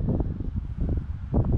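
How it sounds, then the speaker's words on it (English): Wind blowing into the microphone outdoors on a breezy day in Lanzarote, a low rumbling buffet with uneven gusts and no voices. "I'm hoping the audio's okay on this as well because it's quite windy right now."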